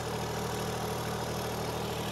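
A turbocharged John Deere 1025R compact tractor on a dyno runs at a steady, close, loud engine drone, with a thin high turbo whistle riding above it throughout.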